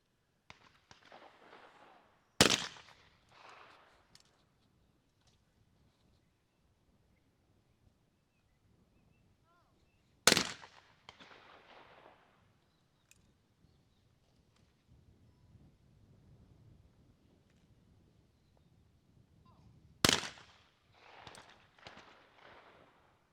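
Shotgun shots ring out at a women's trap shooting final, three sharp loud reports spaced about eight seconds apart, each with a short echoing tail across an open range, separated by quiet outdoor ambience and faint commentary.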